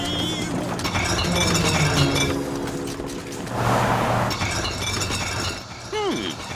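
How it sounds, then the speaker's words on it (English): Glass jar of fizzy liquid bursting in a bumpy cartoon vehicle: a noisy rattling, clinking jumble with a bright crash-like swell midway, then a few whistly squeaks at the end, all continuous and fairly loud. "If it gets shaken, the fizz in there could make it burst like a can of fizzy pop."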